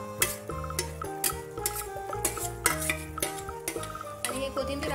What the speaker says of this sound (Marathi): हे कोथिंबीर आपल्या भाजीमध्ये खूप छान प्रकारे मिक्स सुद्धा करून घेणार आहे